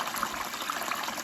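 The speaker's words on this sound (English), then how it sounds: "Ah, water." Water trickles steadily along a trail at night, a continuous close, soft liquid wash with no pauses or speech.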